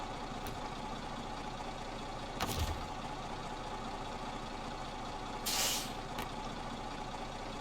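A logging truck in the SnowRunner game idles with a steady low engine rumble, broken by two sharp hissing bursts of released air, with no talking.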